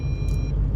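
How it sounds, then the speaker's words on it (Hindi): Tata Tiago CNG car engine while driving, a steady low rumble heard from inside the cabin, continuous and moderately loud with no talk. "आप इसकी आवाज़ भी सुन सकते हैं गाड़ी की।"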